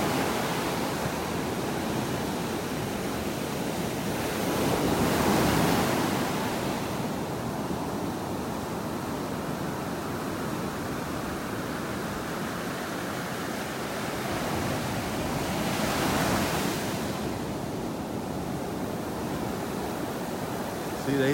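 Ocean surf washes up a sandy beach in North Naples, Florida, a broad steady roar of breaking waves with two gentle swells in loudness, heard at moderate distance under some wind noise.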